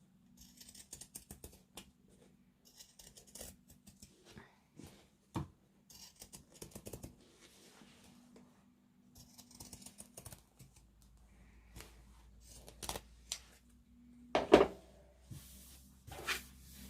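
Pinking shears snip through fabric in a run of short, crisp, close cutting clicks at an uneven pace, quiet overall, with a few louder clacks near the end.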